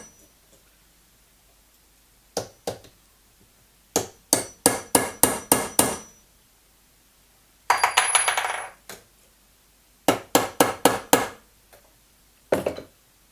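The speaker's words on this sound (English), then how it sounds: "I then hammer it down using a punch." Sharp metallic taps from a hammer striking a punch onto rivets of a custom Swiss Army knife come in quick clusters of four to six blows, separated by silent gaps, with a short scraping burst midway.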